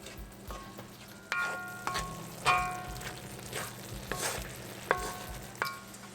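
Baingan bharta mixture being stirred in a pan, with repeated scraping and clinking strokes over a steady low sizzle, close and fairly quiet, with no talking.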